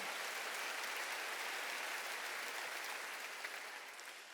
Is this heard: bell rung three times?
no